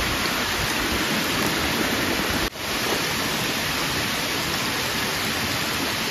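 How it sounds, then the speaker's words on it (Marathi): Steady forest rain at a campsite pours down as a dense, even hiss that fills the whole stretch, dropping away for a split second midway before resuming just as strongly. "नेमका पाऊस चालू झाला बघा"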